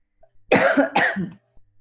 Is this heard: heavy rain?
no